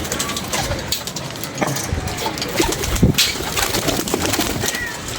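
A Jethia breed pigeon coos in a low, throaty run amid busy outdoor background noise, with a brief clack partway through.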